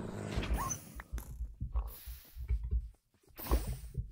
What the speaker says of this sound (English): Oh, these dogs, man. They want to fight.